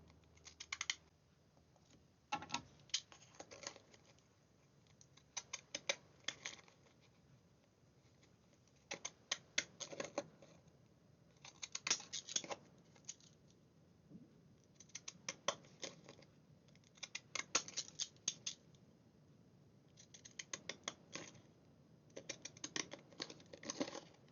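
Scissors cutting card for a slider card, a series of quiet, crisp snipping bursts in clusters separated by short pauses, close but soft, with no talk.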